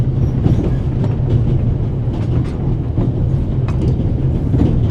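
Train interior ambience from the video game The Raven Remastered, a steady, loud rumble of a rail carriage in motion with faint rhythmic clicks of wheels over track, continuous throughout with no talk.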